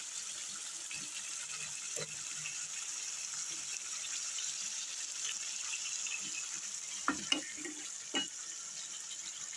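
Chicken stir-fried with spices in a pan for a chicken-and-peas curry gives a steady, close sizzling hiss, broken by a few brief scrapes and clicks, with no talking.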